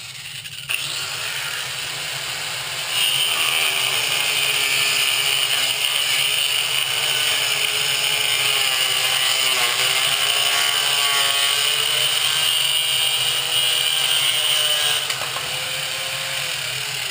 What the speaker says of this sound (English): So I'm going to go ahead and cut a 32 inch piece